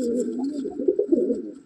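A Madrasi pigeon from a breeding pair coos in low, rolling, throaty phrases, close and clear, swelling slightly near the end with no talk over it.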